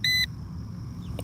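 A Bounty Hunter Tracker IV metal detector gives a short, loud electronic tone at the start, followed by a brief fainter chirp, over low outdoor rumble.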